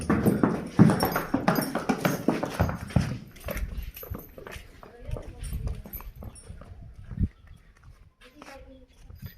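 A tall mare's hooves clip-clop on the ground in a village, a loud, irregular run of hoof strikes that fades to scattered steps, with a person talking over it.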